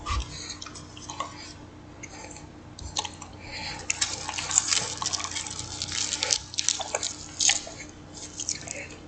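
Fiji bottled water dripping or being poured, a steady run of soft drips and trickles up close with small clicks, no voice in the clip.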